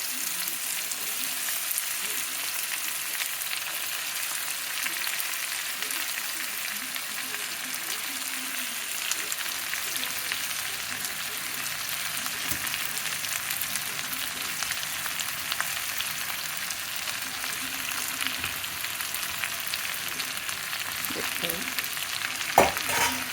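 Chopped ridge gourd and half a tomato sizzle steadily in hot oil in a pan while being stirred, a continuous close frying hiss with faint scraping throughout and a few sharper clinks near the end.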